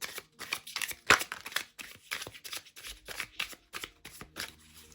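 Tiny indie oracle cards being shuffled overhand, giving a quick run of crisp papery riffles and soft slaps, close and fairly quiet, with no talking.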